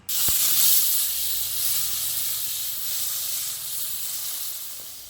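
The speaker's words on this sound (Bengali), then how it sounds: "এবার কেটে রাখা টমেটো দিয়ে দেবো।" Chopped tomatoes dropped into hot oil tempered with nigella seeds for potol posto, bursting into a loud, sustained hissing sizzle that slowly eases, close up with no talking.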